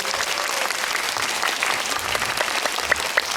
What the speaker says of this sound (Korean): 두 배우님께도 뜨거운 박수 다시 한 번만 부탁드리겠습니다